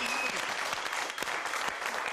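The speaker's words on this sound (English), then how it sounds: "Give a round of applause, please." A TV studio audience breaks into applause, a dense, lively clatter of hands with a brief tone and faint voice at the start.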